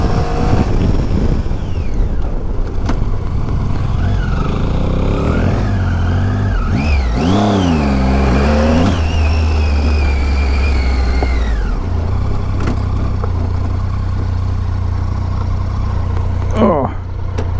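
Triumph Tiger 800 motorcycle engine droning steadily while riding, rising and falling as it pulls out of corners at slow speed, with wind rush throughout and a rider talking over it.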